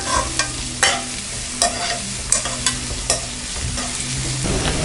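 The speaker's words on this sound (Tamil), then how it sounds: "வெங்காயம் நல்லா வதக்கிட்டோம்" Onions with curry leaves and green chillies sizzling in a pan with a steady crackle, punctuated by several sharp scraping stirs of a spatula at irregular intervals.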